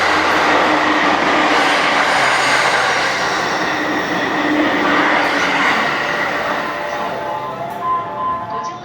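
A train at a station in Japan rumbles loudly close by, with rolling wheel noise and faint squeals, easing off slightly toward the end.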